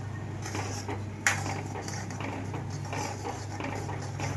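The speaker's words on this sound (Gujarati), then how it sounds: "પાવભાજીનો મસાલો નાખ્યો છે બધું મિક્સ કરી દેવાનું" Pav bhaji masala gravy being stirred in a pan, giving continuous scraping and clinking of a utensil against metal with one sharper knock near the start, set over a steady low kitchen hum.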